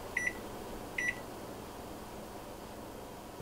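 Two short, clear electronic beeps from a microwave as its timer is set for reheating pizza slices, close and evenly spaced under a faint room hum.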